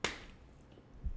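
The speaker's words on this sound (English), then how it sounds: "if you could just clap audibly for me" A single sharp hand clap opens the moment, loud and close, followed by quiet room tone and a soft low thump near the end.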